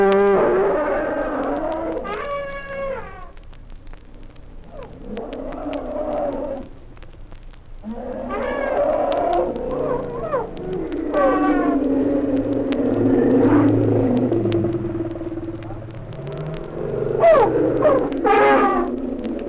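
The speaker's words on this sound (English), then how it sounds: "frequently the elephants will loudly express their resentment." Zoo elephants call out loudly in a string of groaning rumbles and harsher, rising trumpet-like cries, spread irregularly throughout with brief lulls between them.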